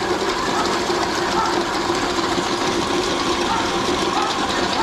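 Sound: meat grinder grinding bones

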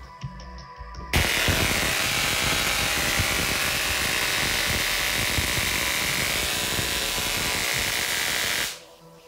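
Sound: electrostatic high-voltage generator machine running

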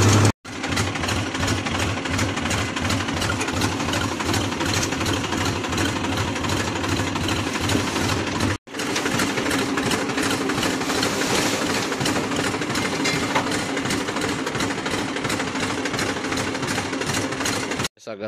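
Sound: tractor-mounted grader engine running

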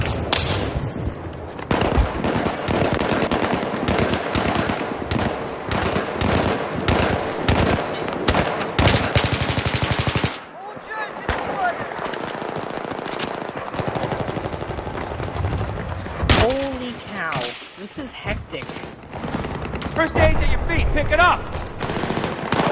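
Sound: gunfire in Battlefield 3 video game

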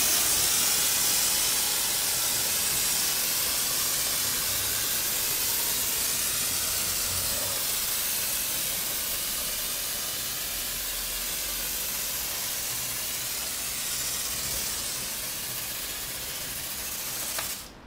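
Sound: Marolex pump sprayer spraying foam with dark blue nozzle

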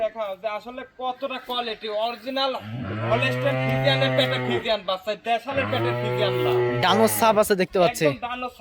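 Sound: cow mooing

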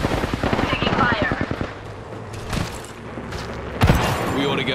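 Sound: gunfire in the video game Apex Legends

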